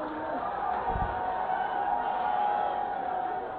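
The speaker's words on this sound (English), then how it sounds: "Plenty of cheer in the crowd." The crowd at the 2022 World Seniors Darts Championship quarter final between Phil Taylor and Kevin Painter keeps up a continuous cheer and murmur, a steady wash of massed voices at even loudness.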